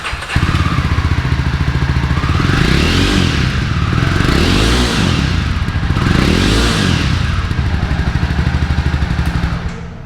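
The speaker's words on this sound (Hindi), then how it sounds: "Java 42 का exhaust note सुनते हैं" Jawa 42 BS6 motorcycle exhausting steadily at close range, a deep thumping idle with three rising-and-falling revs blipped in succession, continuous and loud with no talking.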